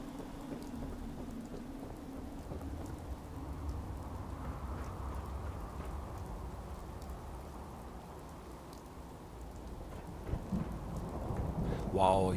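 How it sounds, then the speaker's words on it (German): Steady rain pours down with rolling thunder in Fallout 4, a dense, unbroken wash of noise that holds for the whole stretch, with a slightly sharper crack near the end. "Es regnet durch hier."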